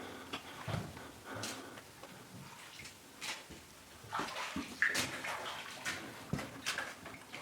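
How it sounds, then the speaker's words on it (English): Footsteps wade through water in an underground mine tunnel, with irregular sloshes and splashes spread over several seconds, faint and echoing, with no voices. "here's the water we're going to have to navigate"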